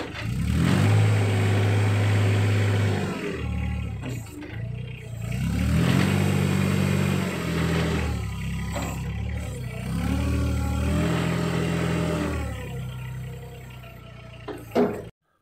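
A Thwaites 1 ton mini dumper engine revs up and down in several swells as the skip is raised, loud and close, ending with a brief clunk.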